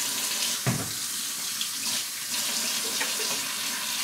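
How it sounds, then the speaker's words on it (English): Water runs steadily from a kitchen tap into a sink while dishes are washed, a close, continuous hiss and splash with a brief clatter near the start. "I'm going to wash a little bit of the dishes that's in here until we get warm water."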